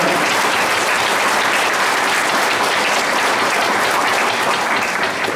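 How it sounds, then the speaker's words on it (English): Sustained audience applause at a school board of education meeting, a dense, loud roomful of clapping hands continuing steadily throughout. "So applaud those young people and the staff who work with them for the job they've done."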